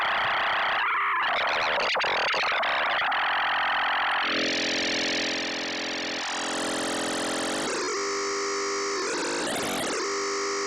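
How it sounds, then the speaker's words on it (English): Buchla 259e synthesizer module with its modulation oscillator cranked to a high rate, giving a loud, dense, buzzing and warbling tone that jumps between pitch and timbre settings across the stretch, with no talk. "Now we're going to crank up the modulation oscillator. Yeah, we're turning to high rate"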